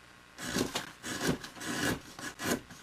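A shape is cut out of a wooden stick with quiet, rhythmic rasping strokes, about five back-and-forth passes heard up close with short gaps between them.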